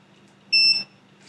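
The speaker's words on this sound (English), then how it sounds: "I'm gonna set my meter to the beep function, and that will give us a good beep whenever the leads are" A multimeter set to continuity gives a single short, clean electronic beep as its test leads are shorted together, sounding clearly over a faint low hum in an otherwise quiet room.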